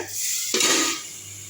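A metal lid is lifted off a cooking pot of pea-lentil vadacurry, giving a short scrape and clink followed by a brief rush of steam and bubbling, close and quiet.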